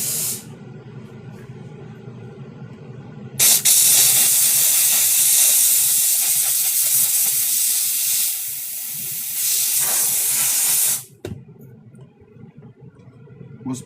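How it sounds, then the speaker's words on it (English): A steam cleaner releases a loud, steady hiss of hot-water steam for about seven seconds, cutting off abruptly, with a quieter room and some faint movement before and after. "it's just steam. It's hot water."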